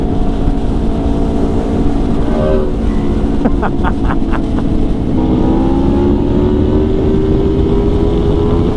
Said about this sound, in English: Am I riding the best road bike on the planet?